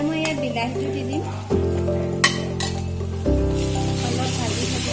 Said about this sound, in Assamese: অলপ ভাজি থাকিম যেতিয়ালৈকে বিলাহীখিনি গলি নাযায়।